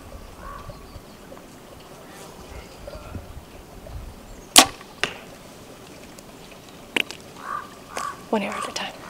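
An arrow is shot from a bow during practice outdoors, giving a sharp snap with a brief whoosh amid quiet wind and ambient noise, followed by a few fainter distant knocks.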